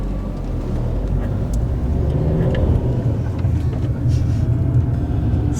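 A car on a road in Sicily, giving a steady engine drone and road rumble that stays up close and loud throughout, with faint traffic noise around it.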